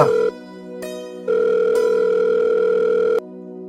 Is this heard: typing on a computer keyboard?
no